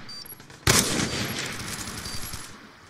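Sudden loud burst of rapid automatic machine-gun fire from an enemy in Call of Duty: Black Ops 2, starting sharply and rattling on continuously before tapering off, with no talk over it.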